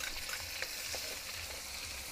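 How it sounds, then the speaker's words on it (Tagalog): Garlic and onion sautéing in a little oil in a frying pan, a steady close sizzle with faint stirring scrapes throughout. "Gisa tayo ng bawang. Sunod na natin ang sibuyas."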